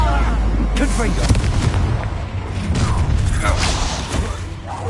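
Booming, crackling blast from the Confringo fire spell in Hogwarts Legacy rumbles over several seconds with layered explosive bursts and mechanical clatter, while a voice talks through it.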